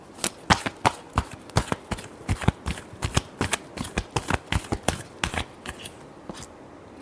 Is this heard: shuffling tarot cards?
yes